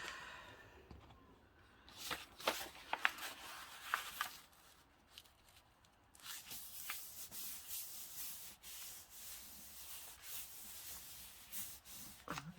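Paper being trimmed around its edges for a junk journal page, heard as soft rubbing and scraping strokes in irregular bursts, close and fairly quiet, with no talking.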